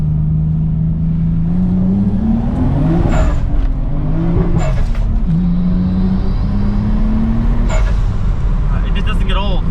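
Car engine pulling hard at full throttle, a steady rising drone with shifts in pitch under loud cabin and road noise, close and constant throughout.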